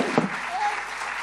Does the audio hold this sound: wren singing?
no